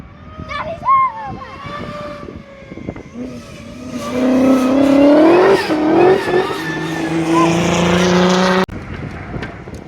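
A Jaguar XKR X100 race car with a TVS supercharger and 8-into-1 exhaust revs hard and rises in pitch, its loud exhaust rasping close by, with people talking over and around it.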